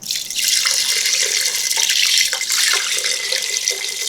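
Water streams steadily from a tap into a pot of rice being prepared for cooking, a continuous bright splashing rush lasting throughout with no talk.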